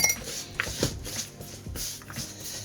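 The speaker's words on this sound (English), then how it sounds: "I'm just using the fork initially now to just start to bring it together" A metal fork scrapes and clinks against a bowl while mixing English scone dough, giving a few light, irregular taps and scrapes at close range.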